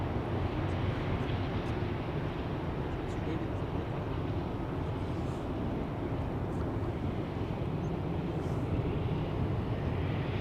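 An airliner at Amsterdam Schiphol Airport, an Airbus A220, gives a continuous broad engine roar, loud and steady from start to finish, with wind rushing over the microphone.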